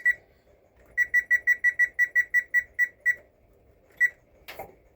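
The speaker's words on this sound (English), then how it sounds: "Okay, our timer went off, so we'll take the Dutch oven out." An oven timer goes off during bread baking: about a dozen rapid, bright electronic beeps in a fast even string, then a pause and a single further beep. Close and clear in a quiet room.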